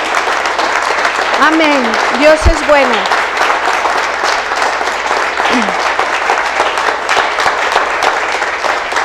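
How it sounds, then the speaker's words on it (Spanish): A church congregation applauding at a Sunday celebration service, continuous clapping with voices calling out over it and a brief sung or shouted phrase partway through. "Dale un fuerte aplauso a nuestro Rey"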